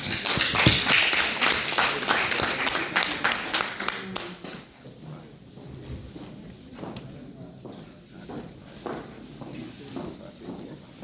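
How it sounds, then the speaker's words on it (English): Applause from the audience at an Itsekiri language convention, a loud patter of many hands for a few seconds that then thins into scattered claps and room murmur. "A round of applause for her."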